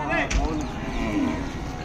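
Ongole bulls and calves at the Kodad cattle market give a low, close moo over the murmur of people talking nearby.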